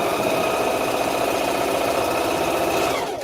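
A sewing machine stitches an elastic waist skirt with a fast, even mechanical whir that runs close and steady, then stops right at the end.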